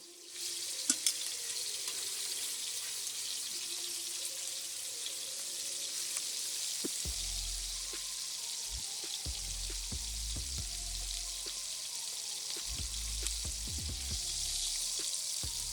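Sirloin tip roast end pieces sear in a pan that is not yet fully hot, giving a steady sizzle with low clatter and scraping bursts in the second half.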